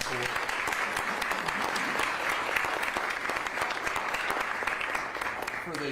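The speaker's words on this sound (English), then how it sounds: "we'd like to give them a round of applause" A crowd at a county address applauds local business grant recipients with sustained, loud, dense clapping that holds steady throughout.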